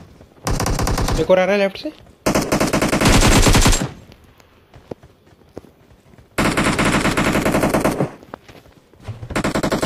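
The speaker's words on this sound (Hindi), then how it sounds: "स्कूल से फायर हो रहा है" Rapid automatic gunfire in the battle royale game BGMI, coming in loud sustained bursts with short pauses between them, while players talk over it.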